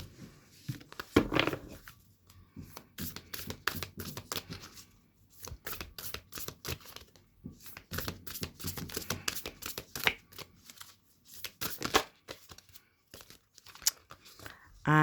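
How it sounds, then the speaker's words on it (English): Oracle cards riffle and slap in repeated rapid bursts of shuffling, close and crisp, with brief pauses between runs as a single card is drawn from the deck. "And I'll pull one final card."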